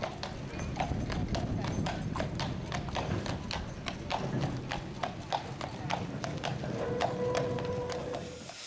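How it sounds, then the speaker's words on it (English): Hooves of a horse pulling a historic horse-drawn tram clip-clop in a steady, even rhythm on a hard surface. The sound runs throughout, with faint voices in the background. "This is the horse tram that ran in Papanui Road all those years ago."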